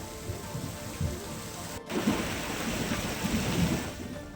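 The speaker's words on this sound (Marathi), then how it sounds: "नवी मुंबईत विजांच्या गडगडाटासह जोरदार पावसाने हजेरी लावली।" Heavy rain pours steadily over Navi Mumbai with a dense, continuous hiss, broken by a brief dropout before the downpour swells again, low rumbles of thunder mixed in.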